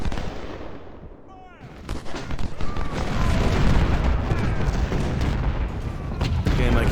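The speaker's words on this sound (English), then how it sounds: "my cannon are doing good work" Cannon artillery booms in the Civil War video game Ultimate General: Civil War, with dense, repeated blasts and rumbling volleys building into a sustained barrage, while a voice talks over it.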